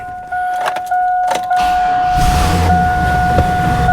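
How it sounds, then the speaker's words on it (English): A 2002 Cadillac Escalade EXT with an LQ9 engine cranks with a few clicks and whirs, then catches about halfway in and settles into a steady idle with a light ticking from an exhaust manifold leak, alongside a constant electrical whine. "Starts right up, a little bit of a manifold tick."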